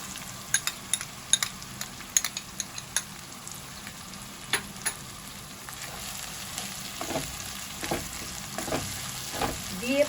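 Spices and ginger-garlic paste fry and get stirred in a pan for Bengali-style ghugni, a soft steady sizzle broken by light clicks and scrapes of a spoon at an irregular pace.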